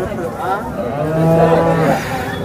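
At the Sangola cattle market, a cow lets out a single long, loud moo that rises and swells at close range, with faint crowd murmur underneath.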